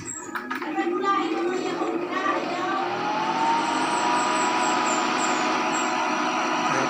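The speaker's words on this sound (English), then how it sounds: "medyo maingay yung blower ito guys kasi malakas yung hangin ng 220 volt na blower" A noisy 220-volt blower fan on an amplifier gives a constant loud whoosh of rushing air. The hum is broad and steady throughout, with faint knocks at the start.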